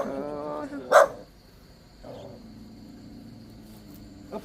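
A single sharp dog bark rings out near the start at a forest home, with a voice before it and quieter rustling after.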